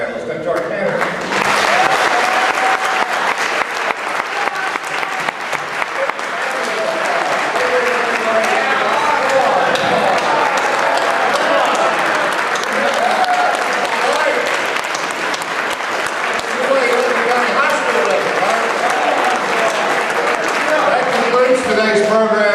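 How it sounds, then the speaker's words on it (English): A large audience at a gubernatorial candidates forum breaks into sustained applause for the panelists and candidates, steady dense clapping that holds loud for about twenty seconds, with faint voices mixed in. "I want us to give a big round of applause to our panelists and to our candidates"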